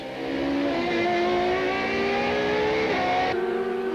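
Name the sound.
Super Touring race cars racing at Kyalami circuit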